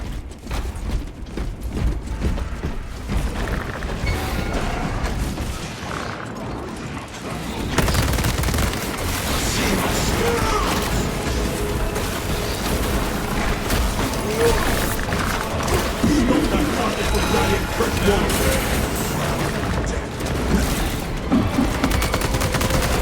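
Dense, continuous bursts of heavy gunfire and booming cannon blasts from a Warhammer 40K Space Marine video game battle against Tyranids, with mechanical clanking throughout and a few voices mixed in.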